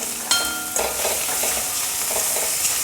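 Bottle gourd halwa with milk and broken almonds, pistachios and cashew pieces stirred in a pan, giving a steady, close scraping and soft wet sizzle with a few sharp utensil knocks at the start.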